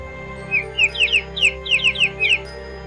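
A young chick chirps in a quick series of about ten sharp, high peeps in small clusters, close and clear over a faint constant hum.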